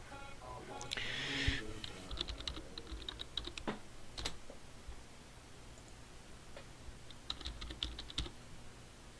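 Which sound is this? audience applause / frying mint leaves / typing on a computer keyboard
typing on a computer keyboard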